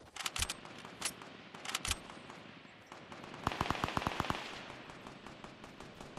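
Heavy sniper rifles fire in a 2v2 video game match: sharp, isolated cracks come first, then a rapid burst of shots. The gunfire is fairly quiet overall.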